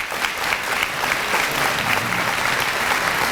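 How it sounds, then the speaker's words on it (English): A conference audience at a leadership forum event applauds speakers, dense and steady clapping from many hands that stays loud throughout. "I want you to give them a round of applause for that authenticity"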